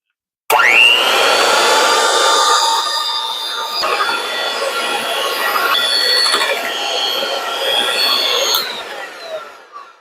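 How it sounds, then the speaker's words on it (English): Electric mixer beating strawberry cheesecake filling, starting abruptly with a loud steady high whine that holds for several seconds, dips slightly, then winds down and stops near the end. "Now you can start using the mixer again."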